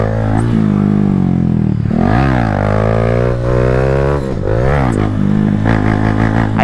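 Motorcycle engine revving hard while pulling a wheelie, the rider snapping into third gear mid-air before the engine bogs; loud, close harmonic roar with rising and falling pitch sweeps and no talking.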